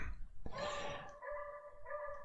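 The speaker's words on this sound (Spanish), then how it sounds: "mientras que el perrito ladra." A small dog barks once sharply up close, then gives a drawn-out whining, growly vocal tail, heard quietly in an indoor room with faint background noise.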